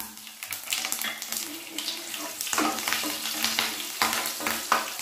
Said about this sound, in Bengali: তেলটা ভালো মতো গরম করে নেওয়ার পর ফোড়নের জন্য কিছুটা গোটা জিরে আর দিয়ে দিচ্ছি কয়েকটা কাঁচা লঙ্কা।